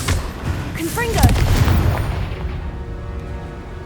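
A Confringo fire spell bursts in Hogwarts Legacy, giving a loud booming blast with crackling impacts and a short whooshing trail, then a fading rumble over steady battle ambience.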